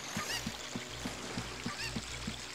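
A chicken from the video game Zelda: Ocarina of Time gives rapid, evenly spaced clucks, about eight in a quick rhythmic run, loud and close over a bed of game background sound.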